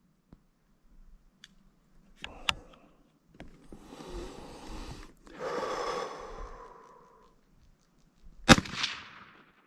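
A single sharp crack from a CZ 527 rifle in .22 Hornet near the end, fired outdoors at a nickel target 100 yards away, following quiet breathing, light handling noises and a rush of wind.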